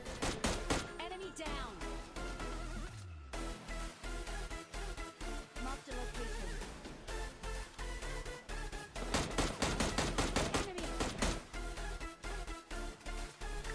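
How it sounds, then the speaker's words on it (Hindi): Rapid bursts of gunfire from the mobile battle royale game PUBG Lite crack out in quick succession, loud and sustained, with short pauses between volleys and no talking. "इसलिए इनके मुंह पे 2-4 गोलियां छाप देते हैं।"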